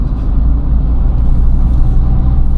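A 2013 Opel Corsa diesel drives through mountain road corners, its engine a steady low rumble with road and wind noise, close and continuous.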